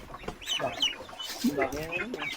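Native chickens cluck in a farm pen, several short close clucks and calls scattered across the moment with faint background chatter.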